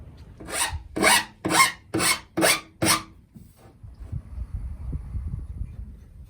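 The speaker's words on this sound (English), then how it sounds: "take it back out and file all the edges down" A file rasps along the freshly cut metal edges of a window opening in a Ford Transit van, six loud back-and-forth strokes in an even rhythm, then a quieter stretch of faint shuffling.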